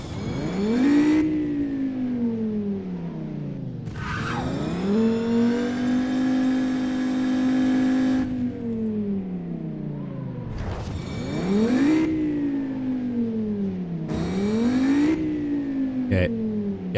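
Engine of a video game race car on a custom-built track, rising and falling in long revving sweeps as it accelerates and shifts, fairly loud and steady with brief drops between runs.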